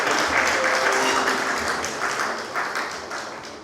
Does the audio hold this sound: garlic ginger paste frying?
no